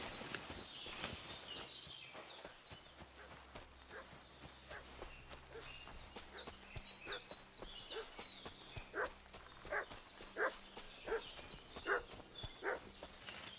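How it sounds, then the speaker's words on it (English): A dog barks repeatedly in the medieval video game Kingdom Come Deliverance, sharp barks growing stronger toward the end over a steady bed of footsteps and outdoor ambience. "What's that dog making such a fuss about?"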